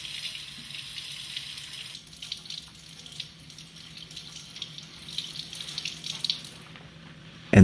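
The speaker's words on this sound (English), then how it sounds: "she washes the sample thoroughly with water" Tap water rinsing a metal lab specimen after etching, a steady soft running stream with small splashes, fairly quiet and close, ending in a brief louder clunk.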